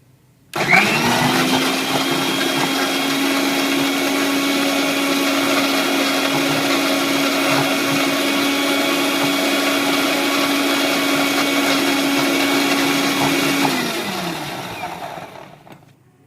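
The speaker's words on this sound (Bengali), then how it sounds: "এবার আমি এই মিশ্রণটিকে খুব ভালো করে ব্লেন্ডারে ব্লেন্ড করে নেব।" A blender whirs steadily as it blends a banana milkshake made with about 400 ml of milk, roadside juice-centre style. It starts abruptly, holds a loud, even motor drone for about 13 seconds, then spins down.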